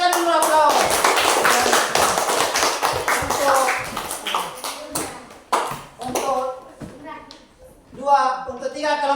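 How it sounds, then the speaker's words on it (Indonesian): A primary school class applauds the groups, a dense burst of many small hands clapping close by with children's voices mixed in, the clapping thinning out toward the end while a teacher's voice takes over. "Kita berikan dulu aplaus"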